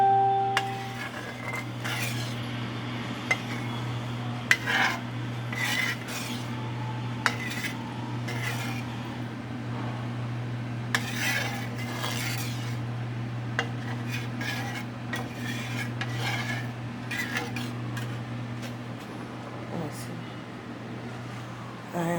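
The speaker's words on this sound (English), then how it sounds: "stir that up." A spoon scrapes and clinks around a pot of homemade chicken and shrimp alfredo sauce in a home kitchen, with repeated light stirring sounds over a steady low hum and some speech.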